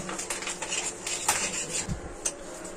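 A spoon stirs spices, including onion and garlic paste, in a metal cooking pot, producing close, steady scraping and clattering against the pot with a few louder knocks and no talking.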